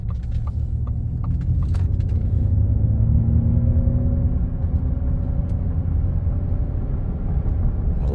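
Inside a 2022 Ford F-150 Lightning Platinum electric truck on a test drive, a steady low road rumble and tire noise fill the cabin, with a faint rising motor whine and a few light clicks early on.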